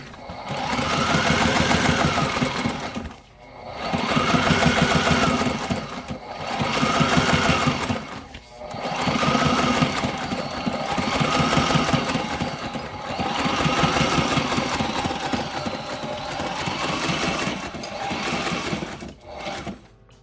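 A sewing machine stitches clear vinyl for a boat's full enclosure, running in steady rhythmic bursts of rapid needle strokes broken by brief pauses, close and loud with no talking.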